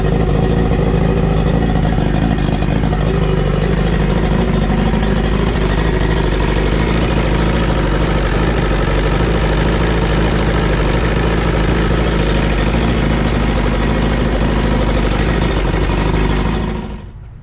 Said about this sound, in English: So we got the engine running.